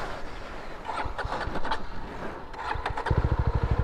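A Jawa 42 FJ motorcycle on an open straight road is revved and pulled away, its engine note rising in uneven bursts, then settling into a rapid, close, thumping pulse at the end.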